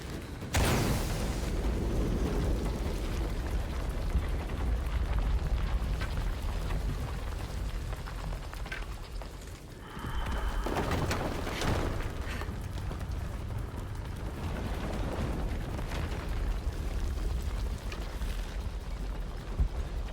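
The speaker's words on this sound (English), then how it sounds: "Another explosion would raise the platform." Explosion raising a platform in the Shadow of the Tomb Raider video game, a loud, sustained rumbling roar that drops briefly and then surges again, dense and continuous, with no talking.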